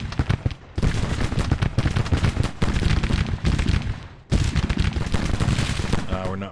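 Civil War artillery and musket fire in the strategy game Grand Tactician, with dense, continuous booming volleys and crackling shots that roll on almost without pause, loud and close, with a brief dip between the bursts.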